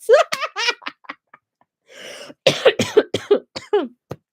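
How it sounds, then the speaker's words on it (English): A person gives a few short coughs mixed with breathy laughter, then talks briefly; close and fairly loud. "Oh, coughing a lot."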